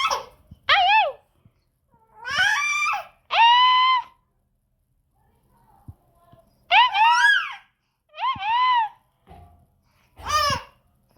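Small pet dog named Paru whining and crying in a home kitchen, high wavering whimpers and yelps in repeated bursts with short pauses between, close and fairly loud.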